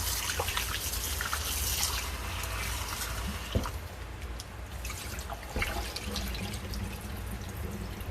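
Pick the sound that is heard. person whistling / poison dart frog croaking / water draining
water draining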